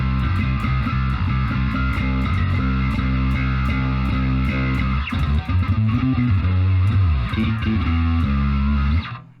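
Distorted bass guitar played through a Neural Amp Modeler capture of a Darkglass B7K preamp, loud and saturated, with sustained gritty notes and a shift to a busier riff midway before cutting off abruptly at the end.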